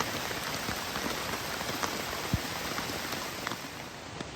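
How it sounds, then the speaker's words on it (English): Heavy rain pours down at a backcountry campsite in the Great Smoky Mountains, a dense, steady hiss of drops drumming on a tent and ground, with occasional sharper individual splats and no voices. "and all of our stuff put down inside when it started downpouring"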